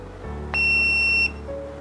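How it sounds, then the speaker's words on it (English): A DOBE 2-in-1 dog training and anti-bark collar remote emits a single long, steady high-pitched electronic beep lasting under a second, loud and close over a low background hum. "The fifth press, you will hear a long beep."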